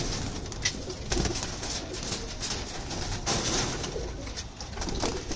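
Punjabi pigeons coo nearby in low, repeated throaty calls over a steady background hum.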